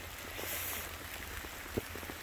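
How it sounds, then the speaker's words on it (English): Steady outdoor rain falling in a yard during a winter storm, a dense even hiss of drops hitting surfaces with one sharper drip, heard alone without talk. "this rain is supposed to change over to snow in the afternoon"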